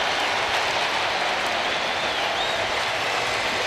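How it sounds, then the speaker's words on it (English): Stadium crowd roaring and cheering after a touchdown at an NFL preseason game, a dense, steady wash of noise that stays loud throughout with no talk over it. "There's some excitement. Listen to the crowd."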